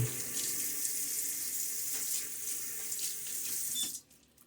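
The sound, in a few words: splash of water from tap while shaving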